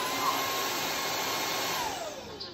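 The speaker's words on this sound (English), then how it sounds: "you can see it also do variable vacuuming speed" Roidmi Neo cordless wet and dry vacuum cleaner running steadily at close range, a loud continuous motor whir with airflow hiss that shifts slightly in pitch as the speed changes, with no talking.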